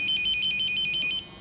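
A Megicar 906 car alarm pager fitted to a Lada Vesta Cross rings close by as a quick run of about ten high electronic beeps, then stops.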